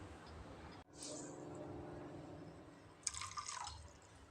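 Chopped palm fruit pieces are rinsed in water, a faint trickle and soft drips followed by a brief splashy slosh near the end, quiet and close.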